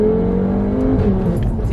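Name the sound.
Audi RS3 8P with MRC Stage 2 tune shifting gear under acceleration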